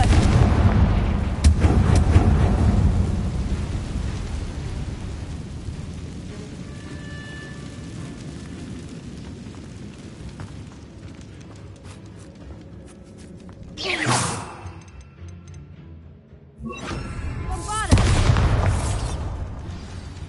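Fire spell explosions in Hogwarts Legacy, with heavy booming blasts and rumbling at the start, then two more sharp bursts later, each loud and close against a quieter game backdrop.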